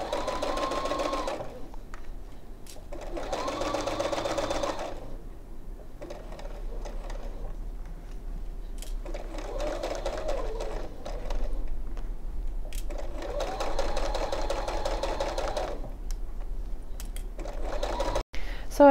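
Domestic sewing machine stitching fabric for an embroidered make-up brush holder, running in about six short bursts of fast mechanical whirring separated by quiet pauses, close and moderately quiet.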